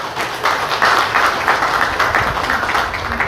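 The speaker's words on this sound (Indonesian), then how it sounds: "Ayo kita happy, tepuk tangan untuk kita semua." An audience at an Islamic religious lecture in Asemrowo claps together in a dense, loud burst that continues steadily for several seconds, heard up close with no talking.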